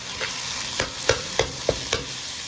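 Minced meat for matar keema is stirred in a cooking pot, a soft sizzle under a series of sharp spoon scrapes and knocks against the metal, about five strokes at a steady pace, close and clear.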